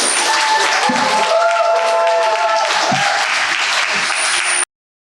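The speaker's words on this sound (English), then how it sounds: "one more round of applause for parents." Wedding guests at a ranch reception give the couple's parents a loud, dense round of applause that carries on steadily for about four and a half seconds and then cuts off abruptly.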